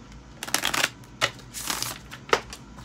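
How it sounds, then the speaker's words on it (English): Tarot cards being shuffled by hand, several quick riffling bursts separated by short pauses, close and crisp with no talking over them. "Do one more shuffle."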